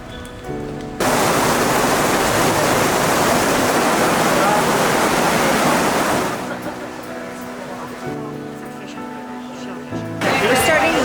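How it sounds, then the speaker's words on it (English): Heavy rain near Pompeii makes a dense, loud hiss for several seconds before easing to a softer wash; no distinct thunder stands out. "it's raining again, if you can hear the thunder"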